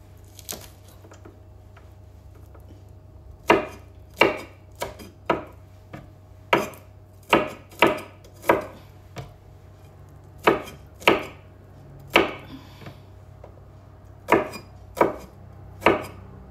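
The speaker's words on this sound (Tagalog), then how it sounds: "Pilitan natin paghiwa yung mga bawang para" Garlic cloves chopped with a knife on a cutting board for chicken adobo, a string of about fifteen sharp, distinct knocks in an uneven rhythm, close and clear over a low steady background hum.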